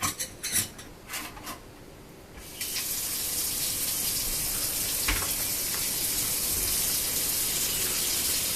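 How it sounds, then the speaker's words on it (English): A kitchen faucet in an extended-stay hotel room runs during spaghetti prep. First come a few clinks of cutlery and dishes, then a steady, loud stream of water fills the rest. "Water."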